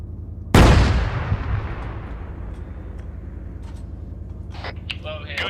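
A tank main gun firing in Arma 3 during an armored vehicle training session: a single loud, close boom with a long rumbling decay, followed by faint radio chatter near the end.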